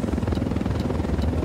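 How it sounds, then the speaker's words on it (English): Brief, rapid rhythmic thumping of helicopter rotors as the aircraft flies overhead in the video game Ghost Recon Wildlands, fairly loud and steady, with no speech. "Helicopter. I hear."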